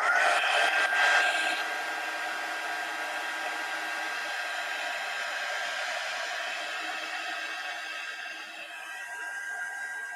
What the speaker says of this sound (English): let me hit that with a heat gun real quick.